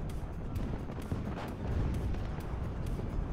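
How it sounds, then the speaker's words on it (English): Artillery and mortar fire in the WWII-style strategy game WARNO: a steady rumble of distant shelling with scattered sharp impacts and crackling blasts layered throughout, moderately quiet and continuous, no voices. "That's artillery coming in and mortars on them."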